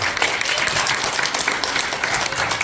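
Applause from a church congregation at a Pathfinder youth group launch ceremony, a steady wash of many hands clapping close by throughout.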